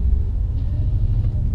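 Deep low rumble of an Audi S4 engine from inside the cabin, steady and close, with no talk over it.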